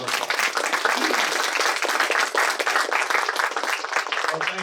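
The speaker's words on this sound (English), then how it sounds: "Please give him a rousing round of applause" An audience at a Senate Law Enforcement Caucus event at the National Law Enforcement Museum gives a steady, rousing round of applause for Senator Roy Blunt, many hands clapping densely and continuously throughout.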